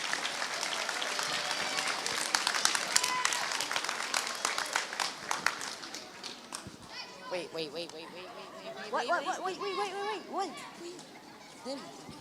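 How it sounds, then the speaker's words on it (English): An audience at a middle school awards ceremony applauds seventh grade award winners, a full burst of clapping that thins out after about six seconds, giving way to children's chatter and voices. "Let's give the 7th grade award winners one more round of applause."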